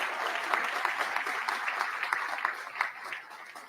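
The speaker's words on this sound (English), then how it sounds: "How about another round of applause for that decision?" Audience applause at a neighborhood economic development announcement in West Louisville's Parkland area, a steady dense crowd clapping throughout with slight swells, fairly close and alone without talk.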